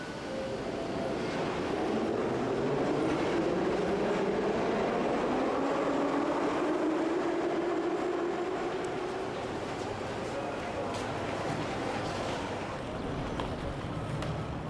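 Moscow subway train running through a tunnel, a steady loud rumble with a rising and falling whine throughout.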